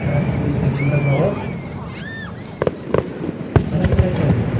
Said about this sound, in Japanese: これはマルチという花火だ。